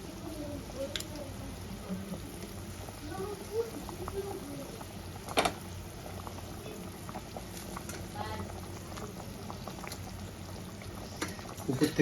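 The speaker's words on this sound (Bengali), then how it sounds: "ঝোলটা আমার ফুটে গেছে" Bhetki fish curry gravy bubbling in a wok, a steady low simmering burble with scattered pops and a couple of sharper clinks, heard close and moderately quiet under faint background speech.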